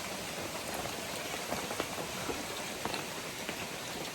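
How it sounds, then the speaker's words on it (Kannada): Light drizzling rain falling outdoors, a faint, steady hiss with scattered soft droplet ticks, quiet and without any talk. "ಮಳೆ ಸ್ವಲ್ಪ ಬರ್ತಾ ಇದೆ"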